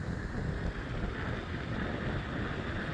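Headwind buffeting the rider of an ASKMY U15 MAX e-bike, a steady broadband rush and rumble of wind over the microphone, loud and continuous throughout with no voices.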